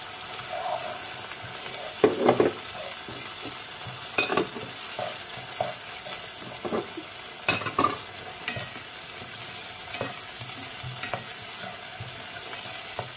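Crushed tomato and tomato paste are stirred in a pan over gentle heat, a spoon scraping and swishing in uneven strokes with soft sizzling underneath and a few louder knocks against the pan.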